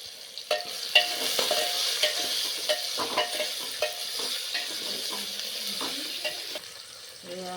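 Okra fries in oil in a pan for Kathiawadi bhinda nu shak. A soft, steady sizzle runs under repeated scraping and clinking strokes of a stirring spoon.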